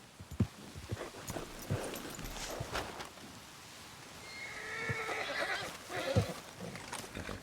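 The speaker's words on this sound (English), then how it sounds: "Will you get me off this horse?" Horse neighing and whinnying amid clip-clopping hooves in a rowdy Western-style game scene, with a drawn-out whinny in the middle and hoof steps continuing throughout at moderate volume.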